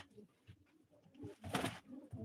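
Pigeons at a live pigeon auction give low, throaty coos, a soft burbling run that swells briefly in the middle, faint and nearby.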